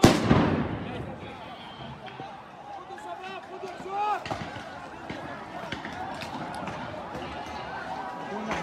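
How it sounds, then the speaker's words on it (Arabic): Forces fire stun grenades, tear gas and rubber bullets during clashes at Al-Aqsa Mosque. A sharp bang opens, and scattered distant blasts and pops follow beneath loud voices, shouting and crowd noise. "قوات الاحتلال تطلق عشرات من قنابل الصوت والغاز والرصاص المطاطي"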